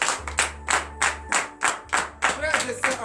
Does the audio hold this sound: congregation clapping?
yes